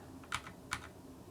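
Two crisp keystrokes on a computer keyboard while typing code, close-miked and alone against a faint steady hiss.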